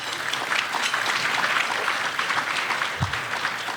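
An audience at a Newport Beach Chamber of Commerce economic forecast event claps steadily, a dense, even wash of applause from a sizable crowd that holds throughout, with one soft thump near the end.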